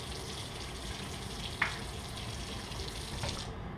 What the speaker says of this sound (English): So just filling this up with water and then pushing the valve on the bottom to let it drip out a little bit.